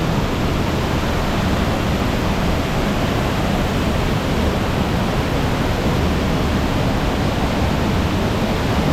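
Little Cow Creek waterfall on a hiking trail roars in a constant, loud, broadband rush of falling water, steady and unbroken with no voices.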